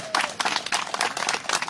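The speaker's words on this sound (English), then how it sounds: "let's give you all a great round of applause for a wonderful job" An audience applauds at an outdoor Black History mural dedication ceremony, a short steady patter of many hands clapping at close range with no voices.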